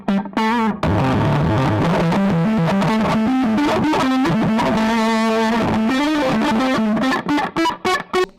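Electric guitar played through a rare handmade Rat-style distortion pedal, loud and saturated with sustained distorted chords and riffs, ending in a few short choppy stabs.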